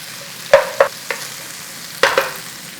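Peppers and garlic in a pan, a low background hiss broken by a few sharp scraping and clattering stirs, close and distinct with no talking.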